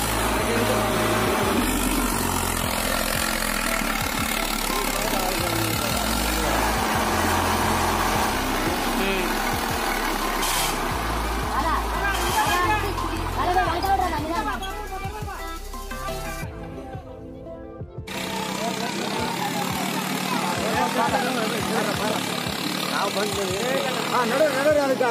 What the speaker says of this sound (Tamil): டிராக்டர் எல்லாம் ரொம்ப முக்கிட்டு இருக்கு, ஏன்னா ரோடு ரொம்ப டஃபா இருக்கு